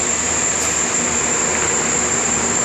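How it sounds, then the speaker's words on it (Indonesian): A Pertamina logistics freight train on an Indonesian railway produces a steady, loud rumble of rolling noise with a thin high whine running through it, unbroken across the moment and with no talk. "ada kereta api Pertamina, logistik"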